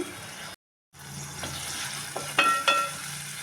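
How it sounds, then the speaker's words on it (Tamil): Onions and tomatoes sauté with curry leaves in a pan for a fish curry, making a soft steady sizzle broken by a short gap, then a few louder clinks and scrapes of stirring near the end. "வெங்காயம் தக்காளி தான் கொஞ்சம் வதங்கி வந்துருச்சு"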